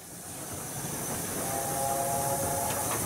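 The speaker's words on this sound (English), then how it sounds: "sound the whistle" LNER A4 steam locomotive with a loud hiss of steam building up, then a brief high whistle tone in the second half, close and alone without speech.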